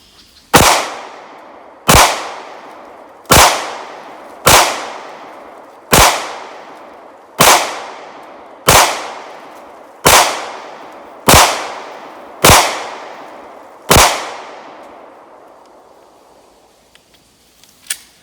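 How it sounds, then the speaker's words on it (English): Eleven sharp, loud gunshots from a Taurus G2C pistol fired at a range target, evenly spaced about one and a quarter seconds apart, each with a short echoing tail, followed by quiet. "I'm gonna shoot the same target she did."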